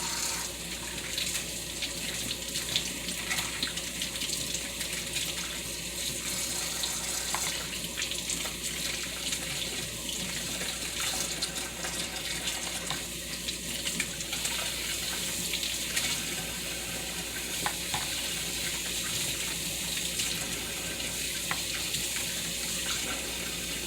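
A kitchen tap runs in a steady, close stream with faint splashing as eggs are rinsed under it. The flow continues throughout without talk.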